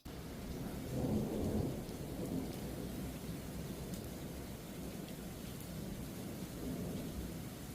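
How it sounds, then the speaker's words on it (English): Heavy thunderstorm over Sydney: steady loud rain pouring on surfaces with deep thunder rumbling through, swelling in a low roll early on, continuous and alone with no voices. "This thunderstorm is just nonstop lightning."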